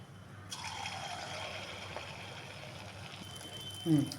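A small test drop of idli batter for bondas hits hot frying oil and sets off a steady, close fizzing sizzle that carries on for several seconds, ending with a brief louder clatter.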